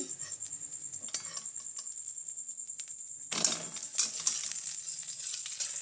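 An omelette of country chicken eggs sizzles in a frying pan with a steady hiss and light taps, then a sudden scraping clatter as a spatula lifts it out, with brief, louder scrapes and fizzing afterward.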